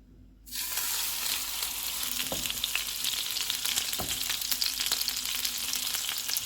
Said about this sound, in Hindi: अब इसमें हम फिश का पीस रख देते हैं।